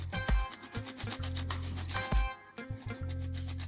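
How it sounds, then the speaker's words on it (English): A piece of fresh turmeric root is grated in a home kitchen; close, rhythmic rasping strokes in short repeated bursts, with no speech. "I'm going to grate my piece of turmeric."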